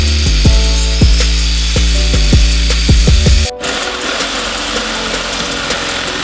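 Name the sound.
cutting the head off a rusty shock bolt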